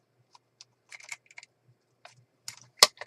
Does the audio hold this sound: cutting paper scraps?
yes